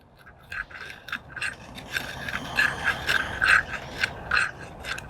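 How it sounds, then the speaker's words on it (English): An APOC Double Mukk hatchet's convex edge carves resinous fatwood in a run of close, rhythmic scraping strokes that grow louder and denser as the cutting continues. "first I'm gonna use the more convex edge, and we're gonna try to just carve some fatwood off of here"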